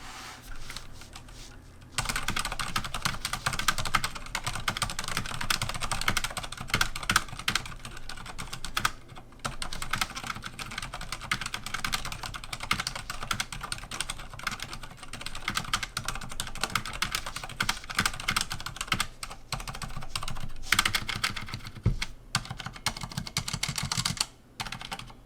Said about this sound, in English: the typing test